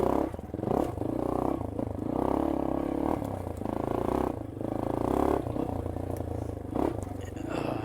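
A Yamaha XT250 trail bike rides a wooded single-track trail at a slow pace and low revs, its engine chugging in uneven pulses close by, mixed with clatter and scraping from the terrain.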